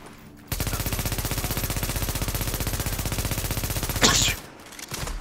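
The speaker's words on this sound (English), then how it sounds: "I'm shooting at him right now" Automatic gunfire in The Division video game: a loud, rapid, evenly spaced burst of shots that runs for about four seconds and then cuts off, close up with little else around it.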